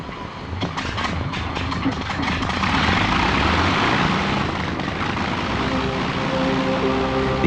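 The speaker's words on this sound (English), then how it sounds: "few will fail to recognize the name, let alone the distinctive sound, of the AVRO Lancaster." The piston engines of an AVRO Lancaster, a Second World War bomber, give a loud, continuous roaring drone in flight that builds steadily over several seconds, with no talking.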